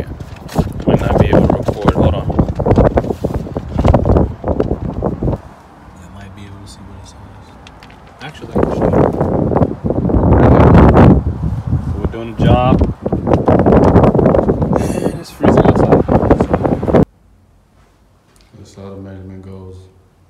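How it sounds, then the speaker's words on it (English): Strong wind buffets the microphone in loud, rumbling gusts that rise and drop across the clip, with a few quieter lulls between bursts. "It's windy outside. It's super windy."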